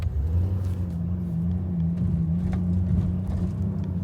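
A BMW E39 with a swapped 3-liter engine is floored and drones with a low, steady rumble, apparently weak and struggling, with no voices heard.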